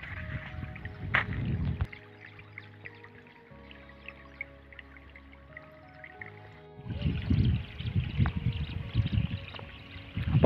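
Water from a farm pump gurgling and splashing along an earthen channel into an onion field, arriving in uneven bursts with a quieter dripping stretch in the middle, close by and without voices.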